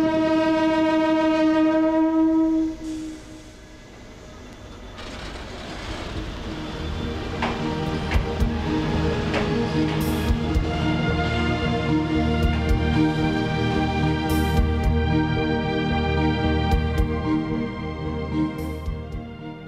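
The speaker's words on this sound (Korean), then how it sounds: "향해 기차가 출발한다." A train carrying hundreds of students on a school trip to Gyeongju blows a long horn, then pulls away with a rising rumble and rhythmic wheel clatter on the rails.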